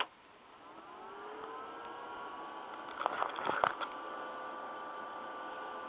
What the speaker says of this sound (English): this is a computer CPU cooling fan, which I installed a switch on. I'm going to turn it on now so you can hear this thing.